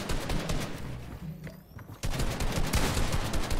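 Gunfire in a video game: rapid bursts of shots at moderate loudness that pause briefly near the middle and then resume as dense, continuous firing, with no talk.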